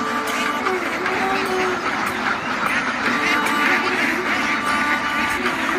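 Many ducks quacking together at a duck farm, a dense continuous chorus of overlapping calls that stays steady and fairly loud throughout, with a voice speaking partway through.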